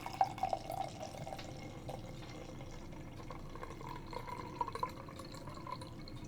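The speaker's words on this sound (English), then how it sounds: "This is probably going to be a couple pours to get through, but we'll get into the theatrics of a 1 to 5 minute pour." Beer poured slowly into a goblet, a faint steady trickle and light dripping with a soft filling gurgle, close and quiet throughout.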